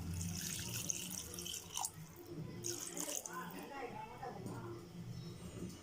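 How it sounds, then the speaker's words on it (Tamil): Water poured into a pot of chicken gravy, a soft splashing trickle with some drips, heard under someone speaking. "இப்போ இதில் தேவையான அளவு வாட்டர் ஆட் பண்ணிக்கிறேன்."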